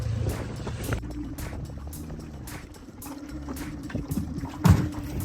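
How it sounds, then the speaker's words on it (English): A large motor dinghy with a big outboard engine crosses a bay, its motor humming low and steady beneath rhythmic thumps of the hull slapping over the water, with one heavier bump near the end. "we've got a gigantic dinghy with a huge engine"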